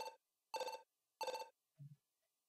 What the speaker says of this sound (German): da klingelt ein Telefon